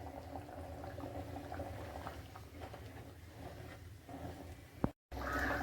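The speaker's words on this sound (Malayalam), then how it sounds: "തീയലൊക്കെ തിളച്ച് നല്ല സെറ്റായിട്ട് വന്നിട്ടുണ്ട്" Kerala-style prawn theeyal curry bubbling in a pot, a soft steady simmer with low gurgling and occasional pops, close but fairly quiet, briefly cut off near the end before resuming.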